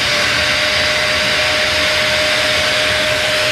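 A shop vacuum runs steadily in a garage during sanding work on a CJ-357 overhaul, a loud unbroken whoosh with a sustained whine and no talking.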